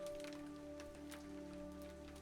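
Hail pattering steadily in the block-building game Total Miner, a dense, continuous rain-like patter with steady tonal game hum underneath, no voices.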